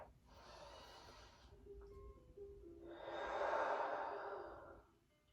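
During a stretching class, a person takes a slow, deep breath in through the nose and then lets out a longer, louder breath through the mouth, close and quiet with no talking.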